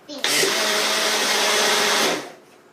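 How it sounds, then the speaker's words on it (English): A blender whirs loudly for about two seconds, a dense high-pitched roar that starts abruptly and winds down at the end. "we're just going to blend it up a little bit quickly"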